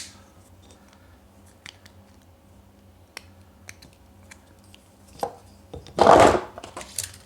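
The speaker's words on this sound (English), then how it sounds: "A little more trim with the knife." A hobby knife trims the plastic of a Bruder Jeep RC body, making small scattered scrapes and a louder burst of cutting near the end, all close by and with no speech.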